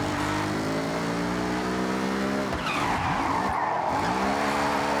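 A car in the Forza Horizon 6 video game slides with tires skidding and squealing over a droning, revving engine, loud and continuous, pitch bending mid-slide before the engine pulls again.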